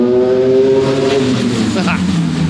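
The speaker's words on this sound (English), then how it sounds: "So that is a Ducati Streetfighter S, which we're just warming up" A Ducati Streetfighter V4 S warming up at the Cremona track, a loud, close engine drone with a brief rise in revs, while someone talks.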